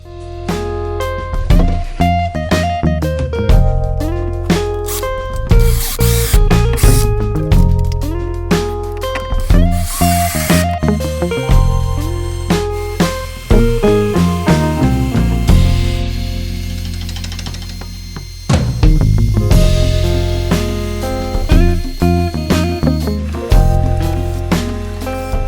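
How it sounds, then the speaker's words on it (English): A CNC machine cutting wall clock parts, with continuous loud mechanical whirring and tonal motor pitches that shift up and down as the cutter moves, punctuated by abrupt changes in load. "Let's crack on with the CNC and see how we get along."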